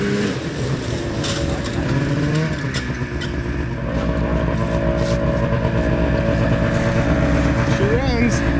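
A two-stroke snowmobile engine, started after ten years in storage, runs steadily at a high idle with a buzzing, slightly uneven drone close by, and people talk over it.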